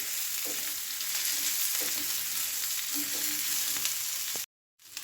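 Chopped boiled potato with chillies stirred in a frying pan, a steady close sizzle with periodic scraping strokes of the spatula, briefly cut to silence near the end.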